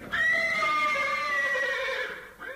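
A horse gives a single loud, sustained whinny lasting about two seconds, clear and close, in an animated Sinbad the Sailor film.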